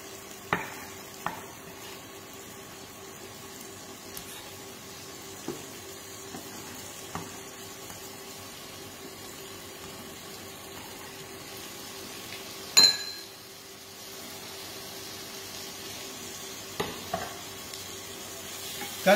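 Onions and chopped tomato, seasoned with salt for a do pyaza, sizzle gently in a pan under repeated stirring, with sharp spoon clicks and scrapes against the pan recurring every few seconds and one louder clatter midway.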